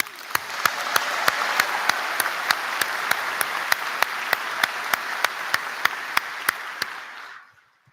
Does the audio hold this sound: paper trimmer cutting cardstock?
no